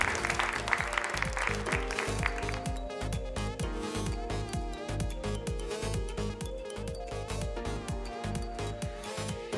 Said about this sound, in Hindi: जोरदार तालियां हो जाए ladies and gentleman, put your hands together for प्यारी फैशन।